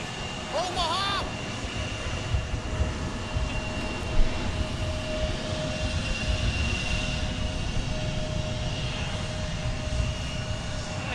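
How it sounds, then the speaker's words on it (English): A fixed-wing airplane passes by at Portland International Airport, its engine roar a steady, broad rumble that holds loud throughout, with a faint tonal whine layered on top and a brief chirp near the start. "every time a plane goes by, Ren is waving."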